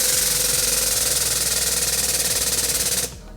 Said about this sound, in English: This is our spring compressor.